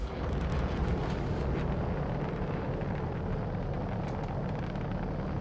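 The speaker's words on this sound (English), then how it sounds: "Torpedo is getting shot down." Torpedo being shot down in the space game Star Citizen during a stealth attack: a dense, steady roaring rumble with crackling explosive texture, loud and continuous, no voices.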